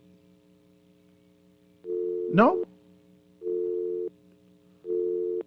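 A telephone line tone on a radio call-in show pulses as three steady, evenly spaced beeps over faint background hum. A voice speaks briefly over the first beep.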